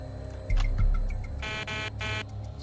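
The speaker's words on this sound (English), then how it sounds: "he activated the stall warning system by a test switch" Cockpit stall warning alert set off by a test switch, with bursts of buzzing tone and short beeps over a low rumble, fairly faint and heard alone.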